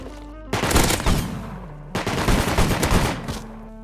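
Rapid automatic gunfire from a video game weapon, two loud close bursts of dense shots, the first about a second long and the second slightly longer, separated by a brief pause.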